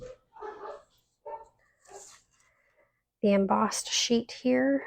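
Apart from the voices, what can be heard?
dogs barking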